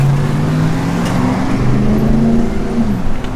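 A 1966 Chevrolet Nova SS V8 with a mild cam runs loud and close, its low engine note rising and falling slightly as it idles and revs without any talking.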